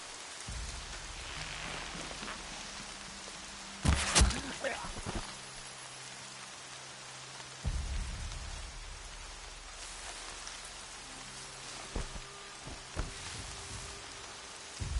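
Steady rain hiss from the Horizon Zero Dawn game world runs throughout, with a few louder bursts of game sounds over it and a voice speaking at times.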